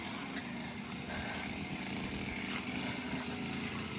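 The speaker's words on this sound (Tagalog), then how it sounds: "tingnan mo kahit Pasko. Nagagrass cutter, gaano kasipag sila." Grass cutter running in a farm field, a faint, steady small-engine drone with a buzzing hum, continuous and unchanging throughout, heard from some distance.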